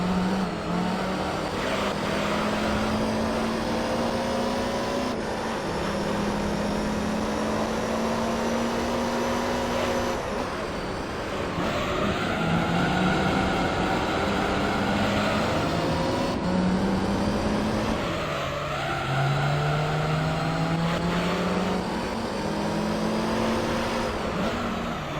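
A white and red Toyota Supra race car on racing slick tyres in Gran Turismo 3, its engine droning and revving steadily with pitch climbing through gears and dropping at shifts, continuous and loud.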